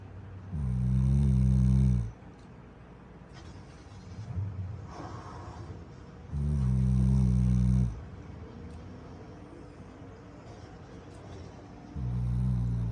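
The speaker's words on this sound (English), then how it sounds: "Our dog snoring with one eye open." A black Labrador sleeping with its eyes open snores close up, three loud drawn-out rasping breaths spaced several seconds apart, with quieter wheezy exhales in between.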